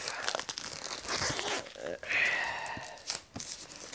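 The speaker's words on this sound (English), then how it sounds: "let's get the plastic here off" Plastic wrap is torn and crumpled off a Super Dungeon Explore: Forgotten King board game box, a close run of crinkling and ripping bursts with short pauses between them.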